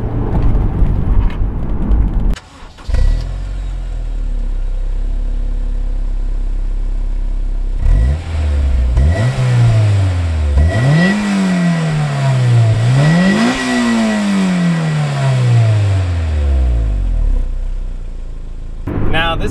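2008 Honda S2000 engine revving through downshifts with its manual transmission, loud and close, several sharp rev spikes climbing and falling in quick succession after a steady drone, with clatter in between.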